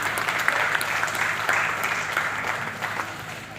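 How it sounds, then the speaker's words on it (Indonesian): Crowd at a closing ceremony in a pendopo hall in Blora clapping loudly and steadily, the applause slowly thinning toward the end. "Tepuk tangan."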